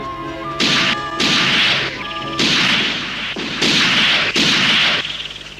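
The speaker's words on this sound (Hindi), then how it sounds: "वो क्या है? गोली चलाओ जल्दी।" A rapid series of loud, sharp cartoon gunshot bursts, each cracking sharply against a tonal musical backdrop, repeating in quick succession.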